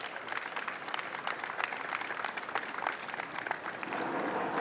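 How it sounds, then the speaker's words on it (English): A round of applause from the audience at a legislation signing event on breast cancer screening access; fairly quiet, steady clapping with scattered sharp individual claps, building slightly toward the end. "let's give them a round of applause"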